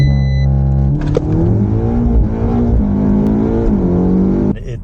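A VW MK8 with a swapped DSG TCU launches hard, its engine climbing loudly and steadily through the revs. The note dips briefly at a quick gear change, then pulls on, close and alone.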